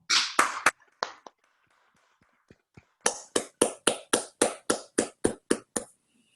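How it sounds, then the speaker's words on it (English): Sparse, individual hand claps from a few people on an online call after a talk, crisp and close, with an irregular start, a quiet gap, then a steady run of a dozen evenly spaced claps. "we can give Ieke a well-deserved round of applause"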